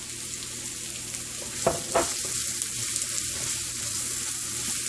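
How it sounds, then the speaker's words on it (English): Onions fry in oil with a loud, steady hiss for matar paneer, and a couple of brief spatula scrapes stand out near the middle. "So we'll cook this onion until it's like translucent."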